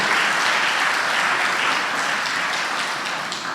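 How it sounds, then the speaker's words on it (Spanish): Strong applause from a church congregation, a continuous wash of many hands clapping at even loudness that tapers slightly toward the end. "Demos fuertes aplausos al Señor."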